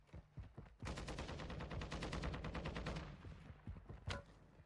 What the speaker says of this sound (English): What are you shooting at, guy?